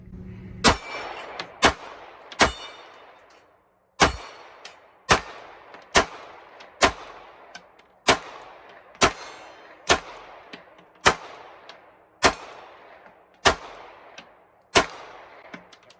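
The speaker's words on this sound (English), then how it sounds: "Let's get some shots on steel, and I'll just keep this on the gun so you can see the gun cycling" Pistol shots fired at steel targets, about fourteen sharp cracks, each with a bright metallic ring as the round strikes steel. The shots come at an uneven pace, loud and close, with short gaps between them.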